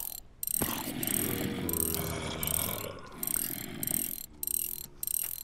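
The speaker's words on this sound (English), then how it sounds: "so that's what this crank handle is for. It's even got a sound effect." Crank handle sound effect from the Minecraft Revolution 3 modpack, a continuous ratcheting clicking of gears turning, steady and close, with brief pauses as the cranking stops and restarts.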